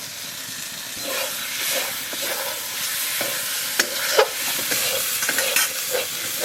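Potatoes dropped into fried spice paste in a pan, a loud close hiss and sizzle with steam and repeated stirring scrapes and clatters, with no speech.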